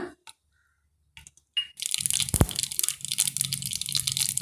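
Mustard seeds hit hot cooking oil in a pan and burst into a close, steady run of sizzling, crackling pops after a few quiet handling taps.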